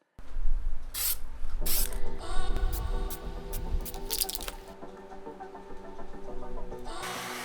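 Short bursts of aerosol spray paint applying red to a masked radio control Formula 1 car body, hissing in several separate blasts close by, with handling clatter and knocks between sprays.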